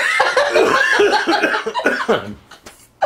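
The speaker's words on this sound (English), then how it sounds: "I'm sorry, I'm coughing." A few rough coughs mixed with laughter-like bursts, close and fairly loud, trailing off into quieter sounds with one sharp burst at the end.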